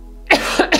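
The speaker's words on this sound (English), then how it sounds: "I need to cough, sorry guys." A few quick, harsh coughs close to the microphone, three bursts in rapid succession.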